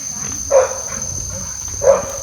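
A dog, one of several tied up, barks twice, a couple of seconds apart, at moderate distance over a constant high-pitched electrical whine.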